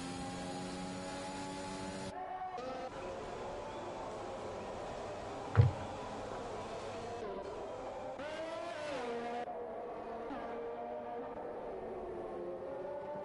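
A race car laps the Abu Dhabi circuit, its engine a steady, close, harmonic whine whose pitch rises and falls with gear changes. A single sharp knock cuts in midway. No one talks.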